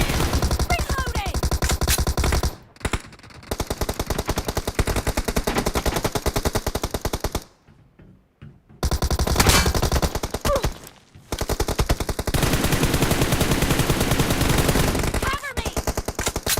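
Loud, rapid machine gun fire in a video game rattles in long sustained bursts, broken by a few brief pauses.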